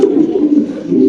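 A male racing pigeon of a BRPFC club ring coos in low, soft, rolling throaty murmurs, steady and close for about a second with no talking.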